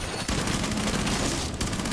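Dense, rapid automatic gunfire fired through a wall in Rainbow Six Siege, a loud continuous rattling burst that fills almost the whole moment after a brief lull at the start.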